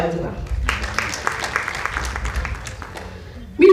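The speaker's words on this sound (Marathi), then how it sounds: "आपण एकदा आपल्या स्वतःसाठी पण टाळ्या वाजवा." An auditorium audience at the Dr. Babasaheb Ambedkar Auditorium, Deekshabhoomi, claps briefly at a newspaper anniversary event, a moderate patter of hands that fades out, followed by a voice at the end.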